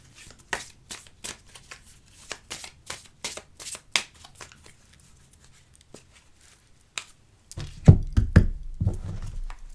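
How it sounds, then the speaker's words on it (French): Oracle cards shuffled and cut by hand: a long run of soft, quick card flicks and taps, close and fairly quiet, followed by a louder rustling handling sound at the end. "on va faire une coupe avec l'oracle des miroirs"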